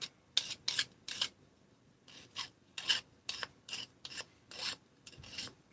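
A hand file rasps burrs off the edge of cut aluminum in a series of about a dozen short, close, scratchy strokes, quiet and evenly spaced with brief pauses between.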